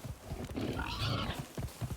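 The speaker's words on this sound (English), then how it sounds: "it's a level 47 boar." A level 47 boar in a video game lets out a loud, rough grunting squeal lasting about a second and a half, close and prominent over the game's ambient background.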